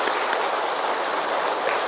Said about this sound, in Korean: 우리 뜨거운 박수로 환영하십시다.